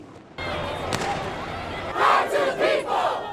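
Demonstrators at a street riot shout in a rising crowd roar, with cries swelling in waves amid sharp bangs, heard at a distance behind a reporter talking.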